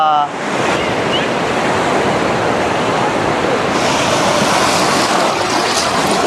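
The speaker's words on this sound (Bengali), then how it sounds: "আর এই দেখুন বকখালি সমুদ্রের ঢেউ" Very large monsoon waves break on the beach at Bakkhali on the Bengal coast. The surf roars loud, close and continuous, with heavy wind buffeting the microphone.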